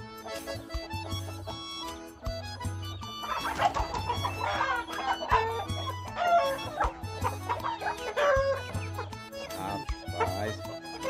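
Chickens cluck repeatedly on a Brazilian poultry farm among breed birds, with overlapping calls up close against a busy background that also carries dog-like yips.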